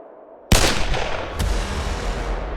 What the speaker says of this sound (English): he hears 2 loud gunshots rumble beneath his feet